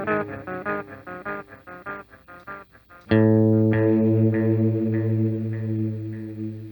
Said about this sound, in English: when you rack the time knob, it starts to make cool sounds.